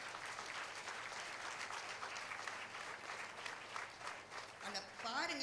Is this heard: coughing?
no